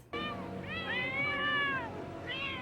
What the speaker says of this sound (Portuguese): Gatos!